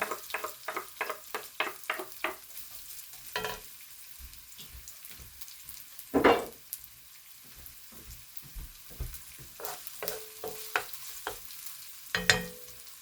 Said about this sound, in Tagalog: Igisa lang po natin ito. Lagay na po natin itong luya.